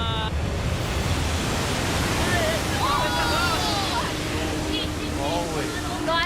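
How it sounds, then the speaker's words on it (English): Ocean waves crash and wash onto a beach in Samoa, a loud continuous roar of surf filling the whole stretch, with faint voices underneath. "The waves were coming up and hitting basically where the shelter started"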